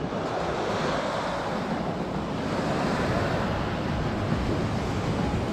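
Ocean surf on the south coast of Sri Lanka, a loud, continuous wash of breaking waves close by with wind buffeting the microphone throughout, and no voices.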